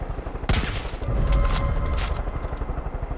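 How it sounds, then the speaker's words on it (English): Gunfire in Far Cry 5: a sharp loud shot followed by rapid bursts of automatic fire and booms, close and continuous through the clip. "Oh my god, you're shooting people."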